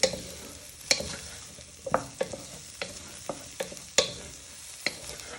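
Spices cook in a pan over low heat as a utensil stirs and scrapes them, with repeated sharp clacks against the pan over a light, constant sizzle, close and clear, with no talking.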